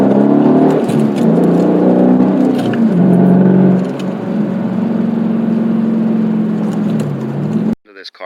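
A Dodge Challenger R/T Hemi V8 revs loudly up close, its deep engine note rising then settling to a steady drone before cutting off suddenly at the end, with a voice heard over it.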